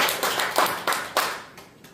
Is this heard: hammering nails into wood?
no